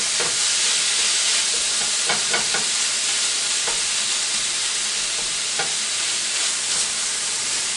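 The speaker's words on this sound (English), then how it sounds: "So right now I'm frying up 1 pound of burger." A pound of ground beef fries in a pan with a constant bright sizzle. Scattered clicks and scrapes of stirring rise above the hiss, and no one speaks.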